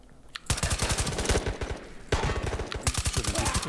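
Automatic gunfire in the VR shooter Ghosts of Tabor: two long, loud bursts of rapid evenly spaced shots, close and sharp, separated by a brief pause.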